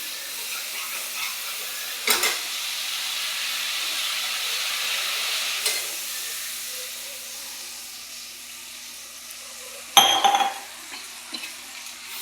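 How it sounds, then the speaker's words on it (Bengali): Oil sizzles and hisses in a pan for chital fish kalia as spices fry, a steady sizzle broken by a few sharp stirring scrapes and a loud crackling burst near the end. "একটু তেল দিয়ে ভাজা ভাজা করছি।"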